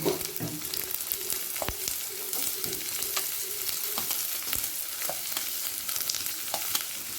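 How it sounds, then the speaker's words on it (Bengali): Steady sizzling of onion and garlic frying in hot oil on a high flame, with scattered sharp pops and occasional stirring scrapes, close up and without voices. "পেঁয়াজ আর রসুনটা দশ সেকেন্ড হাই ফ্লেমে ভেজে নেব"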